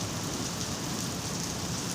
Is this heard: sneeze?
no